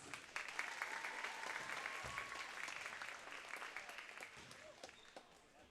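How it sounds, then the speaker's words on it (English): A crowd at a high school varsity basketball senior night applauds steadily, a dense sustained clapping that carries through the whole stretch before slowly easing off. "Please give Hope a round of applause"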